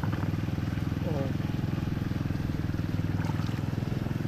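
A swimming pool pump motor at a beachfront resort running with a steady, rhythmic chugging drone, loud and continuous, while people talk nearby.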